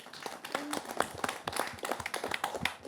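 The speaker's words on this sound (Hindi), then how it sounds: "सब ताली बजाकर इनका स्वागत करें" An audience at a televised organ donation discussion program claps in welcome, a steady burst of applause sustained for a few seconds with light voices underneath.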